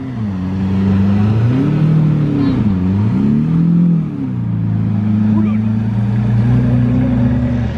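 Supercar fitted with a Capristo exhaust running with its valves closed, a deep steady engine drone with rising and falling revs, loud and close throughout, with some talk mixed in.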